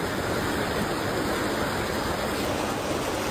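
Broad, steady rushing of a flooded river fills the whole clip, a constant loud roar without pauses or voices.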